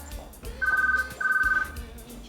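A telephone rings indoors at a hair salon, two loud electronic ring bursts with a warbling pulse, separated by a short gap, over faint room noise.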